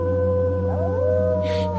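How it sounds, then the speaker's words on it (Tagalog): A monstrous, wolf-like howl from a horror story about aswang in a provincial house, a long, steady wailing tone that bends upward and holds, set against a constant low drone, with no voices. "nakarinig siya ng alulong ng kung anong halimaw mula sa magharang bahay"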